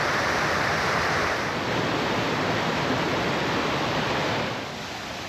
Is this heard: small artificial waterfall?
yes